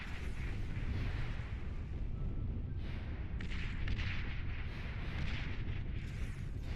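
Rocket bots firing in a strategy video game, a dense barrage of booming artillery-like blasts and rumbling explosions, continuous and loud with sharper bursts in the second half, no talk over it.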